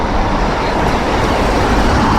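Dense, continuous road traffic roars close by as a lorry approaches, a broad steady rush of engines and tires with no pauses and no talk.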